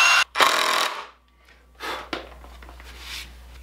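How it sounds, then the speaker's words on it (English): A power drill bores pilot holes into stacked wooden boards while building a DIY car ramp, heard as a few short, close, harsh whirring bursts separated by quiet pauses. "Pre-drill the holes and install."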